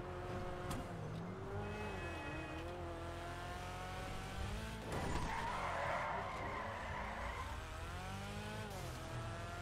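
A Mazda RX-7 style ZR350 in GTA 5 Online accelerates hard, its engine revving up through shifts while tires squeal and skid loudly, with a sustained screech mid-run over steady engine drone.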